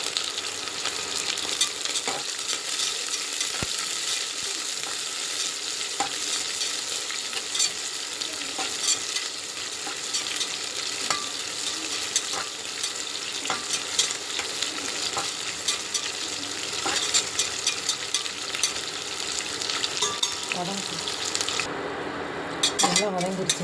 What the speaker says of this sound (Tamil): ஒரு பெரிய வெங்காயம் கொஞ்சம் கருவேப்பிலை பச்சை மிளகா நல்லா வதக்கலாம்